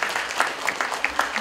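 Applause from an audience at a Korean commemorative lecture event, welcoming a foundation chair; steady clapping with a few sharper claps, moderately loud and continuous for a short burst.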